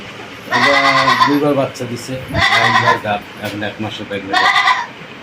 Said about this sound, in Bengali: এটা কি জাতের ছাগল এটা তোতাপুরি ছাগল